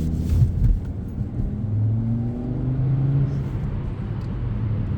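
A car drives steadily with a continuous low engine rumble and road noise, fairly close and even in level throughout, with no talking.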